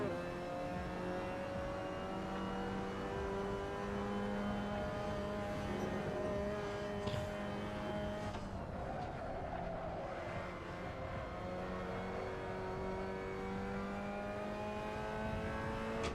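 A race car engine in the Assetto Corsa sim racing game holds a steady, continuous drone under throttle, with its harmonic whine shifting slightly in pitch over sixteen seconds, loud and close throughout.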